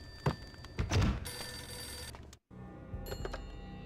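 An old-style telephone bell rings in short metallic bursts inside the video game Max Payne, with thuds and clatter around it and a brief silent gap before the ringing resumes.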